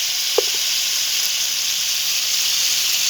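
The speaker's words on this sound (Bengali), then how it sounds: "এবারে কাঁঠালি বিচি দিয়ে ভালো করে একসঙ্গে কষিয়ে নেব" Jackfruit seeds and spices fry in a pan with a steady, loud sizzling hiss and one small pop near the start.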